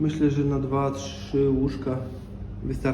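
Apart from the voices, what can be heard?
None of the usual background noises is heard.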